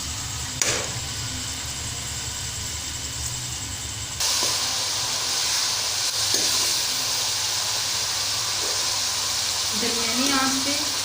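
Chopped onions sizzle in hot oil for karhi pakora, a steady frying hiss that grows louder after a few seconds, with a few faint clinks and no talk over it.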